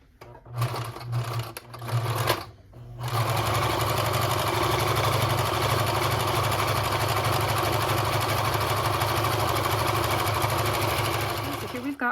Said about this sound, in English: I'll go ahead and start back up at the top and keep on stitching